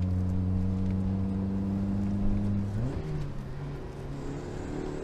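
A home-built Toyota MR2 mk1 engine holds a steady, loud drone, then its pitch shifts sharply near the end as the revs change, with close, continuous engine noise throughout.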